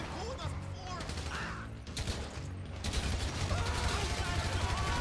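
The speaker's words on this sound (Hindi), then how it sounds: "हमने गोलियों की बौछार करना स्टार्ट कर दिया" Gunfire barrage in GTA V during a Trevor Philips mission, a dense continuous crackle of rapid shots and mechanical clatter over game ambience, sustained and moderately loud throughout.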